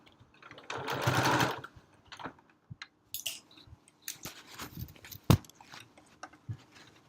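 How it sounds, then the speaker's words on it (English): A sewing machine stitches over the handles of a fabric library bag in one sustained run of rapid stitching, followed by scattered clicks, shuffles and handling noises of the bag being moved. "when you are sewing over your handles"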